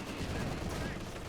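Machine gun fire in the video game Company of Heroes 2, a faint, continuous rattle of battle noise with a voice talking over it throughout.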